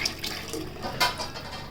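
Water pours and splashes into a large cooking pot of katachi amti in uneven gushes, close by, with a few sharper splashy bursts.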